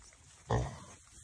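Newborn piglets grunt while nursing their first milk, one short low grunting burst up close in a quiet barn setting.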